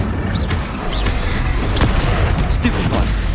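A fire spell cast in the video game Hogwarts Legacy gives a dense, rumbling burst of magical combat effects. It comes with sharp crackles and whooshes over a loud, continuous low roar of battle noise.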